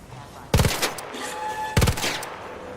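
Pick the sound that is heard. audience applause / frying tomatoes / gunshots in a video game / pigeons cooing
gunshots in a video game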